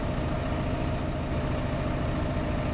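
A tractor engine idles in Farming Simulator 15 with a steady low rumble, even and continuous throughout, with no voices over it.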